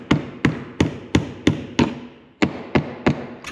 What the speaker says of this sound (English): Use a brass punch to hit this and roll this ring around, and we'll be able to get the pump out.